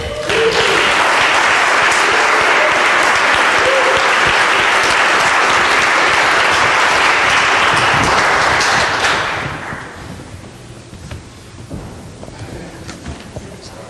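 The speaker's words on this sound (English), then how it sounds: "thank you for applauding me." Loud, sustained audience applause at a Celtic festival, a dense wash of clapping that holds steady for about nine seconds before dying away into quieter room sound.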